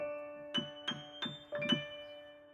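Four struck notes on a Yamaha S4 keyboard in a slow, slightly uneven sequence over a steady sustained tone, each with a sharp attack and quick decay, fairly quiet and close.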